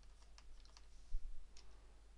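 Soft, sparse keystrokes tap on a computer keyboard, a few quiet clicks scattered over two seconds against a faint low hum.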